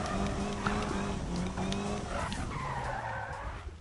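Car drifting in the Need for Speed video game, with sustained tire squeal and skidding over a droning engine that shifts pitch as the slide continues, heard steadily for several seconds.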